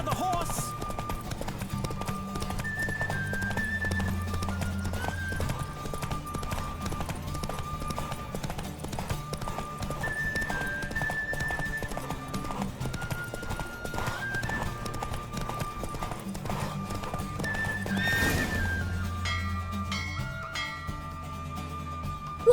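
A horse gallops in the video game The Witcher 3: Wild Hunt, with steady rhythmic hoofbeats and whinnies over a continuous musical score for most of the stretch, then the pace fades near the end.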